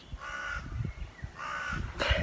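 A crow caws in three loud, harsh bursts, each about half a second long, with short gaps between them. The calls are close and clear against quiet outdoor background, and no one speaks.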